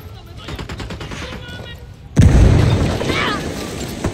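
A thrown frag grenade in Ghost Recon Wildlands goes off with a deep, close boom partway through. Scattered gunfire rattles before and after the blast, and voices are faintly present in the background.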